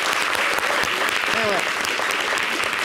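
Studio audience applauding during a French-language television show, a steady wash of clapping that fills the whole moment, with a voice briefly speaking over it.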